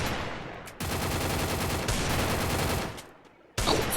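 Rapid automatic gunfire in the mobile battle game Free Fire, a dense, loud burst running for a few seconds, a brief pause, then another volley starting up.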